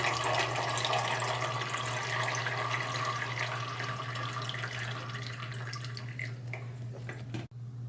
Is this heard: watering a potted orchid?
yes